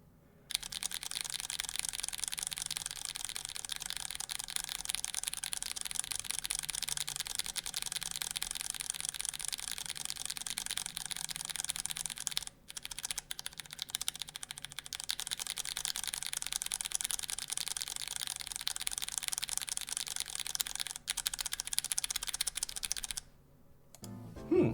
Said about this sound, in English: this is what MX Browns sound like